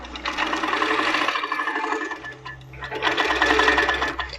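A Moxie quilting machine with Pro-Stitcher Lite stitches a quilt border, giving a steady, loud mechanical whirring that pauses briefly midway and then resumes, with no talk over it.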